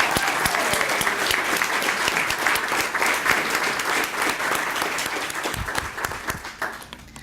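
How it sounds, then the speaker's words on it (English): A large audience applauds steadily and loudly at a National Safety Council event in Hammond, Louisiana, the dense clapping holding for several seconds before easing slightly at the end. "Give yourselves a round of applause like you've never heard it before."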